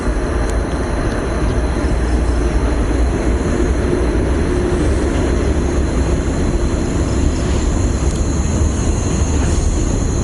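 A freight train rolls past on a railway track in Laos, a loud continuous rumble and rattle of wagons with a faint high wheel squeal, sustained and close throughout without speech.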